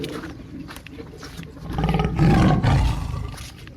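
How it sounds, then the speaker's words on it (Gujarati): A tiger roars in a farm field, a low rumbling growl that swells loudly through the second half before tapering off, with no talk over it. "અરે વાઘનો"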